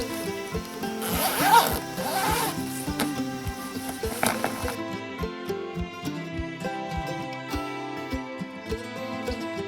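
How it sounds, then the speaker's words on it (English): A zipper on the clear lid of a Teamoy craft bag is pulled in short repeated strokes, close and crisp, with rustling handling noise around it. "it has a zipper on the top."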